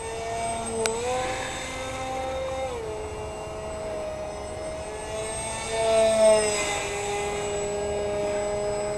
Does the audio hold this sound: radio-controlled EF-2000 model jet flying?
yes